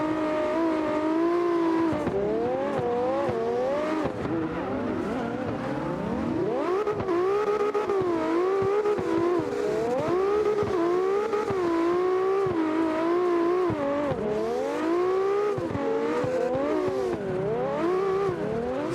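A Porsche race car at a nighttime open practice in St. Pete drives continuously, its engine rising and falling through repeated revs and gear changes, loud and close throughout.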